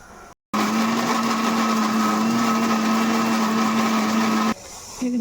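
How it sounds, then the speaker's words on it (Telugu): A kitchen mixer grinder whirs steadily and loudly for about four seconds as it grinds green gram vada batter with salt, starting abruptly and then cutting back to a quieter hum. "అన్నీ మిక్సీలో వేసేసుకున్నా."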